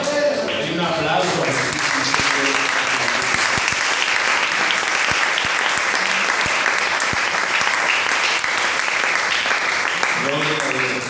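A church congregation applauds during a sermon on the oneness of God, a loud, sustained clapping lasting several seconds, with a voice speaking briefly at the start and end.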